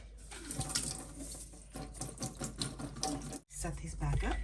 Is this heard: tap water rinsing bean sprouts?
yes